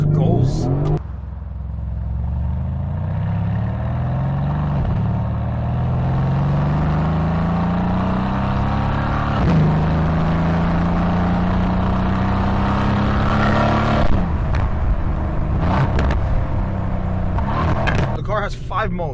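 A 2017 Mercedes-AMG C63 S Coupe Edition 1 accelerates hard from inside the cabin, its engine note climbing steadily through a long pull, dropping briefly at shifts and rising again, loud and close, with a few clicks near the end.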